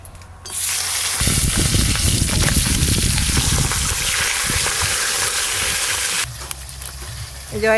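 Fish heads frying in hot oil in a home kitchen give a loud, steady sizzle with bubbling crackle that starts abruptly, holds for several seconds, then drops back near the end.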